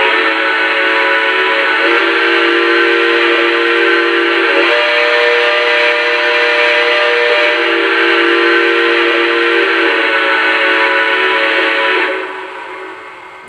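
The whistle of a Lionel Legacy Southern Crescent 4-6-2 Pacific model steam locomotive sounds loud and close, a sustained chord-like blow held for about twelve seconds with slight changes in intensity, then cutting off sharply.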